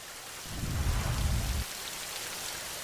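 Steady rain falls in a dense, hissing wash, with a deeper rumbling swell in the first half that fades, leaving an even patter.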